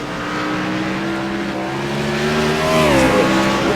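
Race cars at Sonoma Raceway, including the 87 Campbell Chevrolet, engines droning loudly and steadily, one car's pitch shifting as it accelerates and passes close by.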